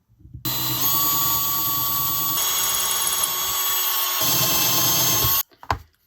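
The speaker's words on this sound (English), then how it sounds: "That with my drill. And then try not to drill through my fingers." A power drill whines steadily at high speed for about five seconds while drilling a hole in a handle, loud and close, then stops abruptly.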